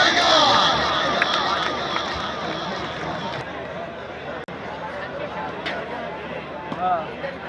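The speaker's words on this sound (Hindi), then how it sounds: "तालियां" Crowd noise with cheering and scattered clapping at a club event in Sialkot, loud at first and then easing into a steady hubbub of voices and shouts.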